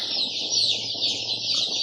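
A flock of 12-day-old Andijan black chicks keeps up constant high peeping with no voices, an even, continuous chorus close by.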